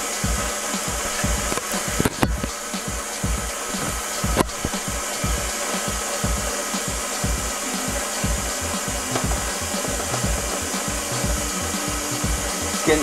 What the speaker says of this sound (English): And then we have to knead it for 7 minutes, so I'm gonna just leave the machine on